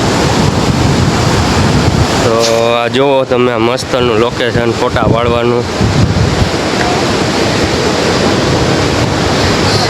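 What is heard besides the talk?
sea waves at Atroli beach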